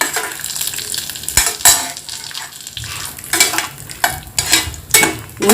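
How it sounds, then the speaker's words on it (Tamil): Urad dal frying in oil in a pan while being stirred, a steady close sizzle broken by repeated scraping strokes of a spoon against the pan, with no talking. "உளுந்து பொரிஞ்சு வரணும்."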